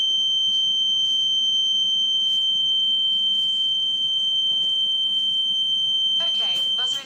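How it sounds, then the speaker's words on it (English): An electronic buzzer switched on by a voice command to a Google Assistant home automation setup gives a sharp, steady high-pitched tone throughout, loud and continuous, with people talking faintly in the background and a burst of clatter near the end. "turn on buzzer"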